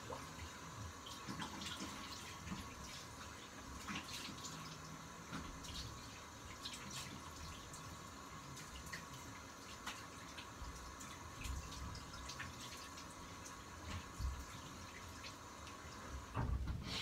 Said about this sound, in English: I'm gonna rinse it with cold water.